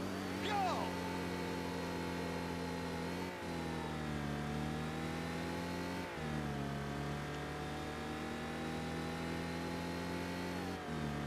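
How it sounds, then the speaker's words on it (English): A Porsche race car in the Need for Speed Porsche Unleashed racing game accelerates hard off the start, its engine droning loudly and steadily with distinct rising pitch sweeps at each gear change, other cars audible close behind. "Decent acceleration, not quite as good as the cars behind, but we got away enough, so that's good."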